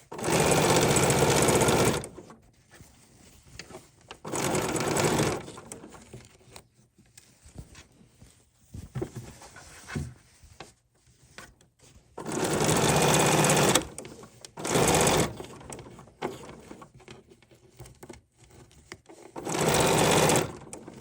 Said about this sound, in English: I'm going to sew all the way down, back tack so it doesn't come undone, and cut.